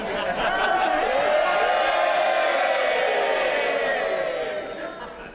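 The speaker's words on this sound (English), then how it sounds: "This is the moment for cheering. You can do that some more." MPs in the House of Commons cheer and roar together, a dense, loud crowd swell that holds steady for several seconds before fading.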